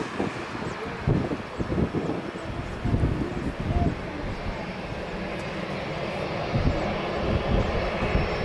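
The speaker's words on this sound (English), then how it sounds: "Your Atlantic 777 on final." Boeing 777 airliner on final approach at Lisbon Airport, a steady broadband jet engine roar holding loud and near throughout, with some wind buffeting and surges in low rumble.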